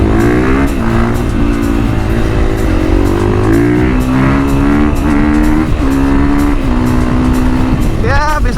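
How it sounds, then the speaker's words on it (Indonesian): A Husqvarna 450 FS supermoto motorcycle engine runs loud and close throughout, its revs climbing and settling in continuous waves with a sharper burst near the end, and talk faintly underneath. "Jadi motor cross ini Husky Varna 450 FS."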